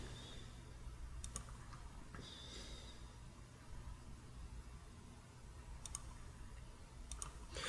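Faint, sparse key clicks in short bursts over a quiet room hum, typing on a computer keyboard at a relaxed, irregular pace.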